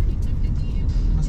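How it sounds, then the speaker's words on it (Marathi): A Tata Nexon car drives along, with a brief, steady engine and road hum heard from inside the car. "अजयची कार चालवतोय मी, नेक्सॉन"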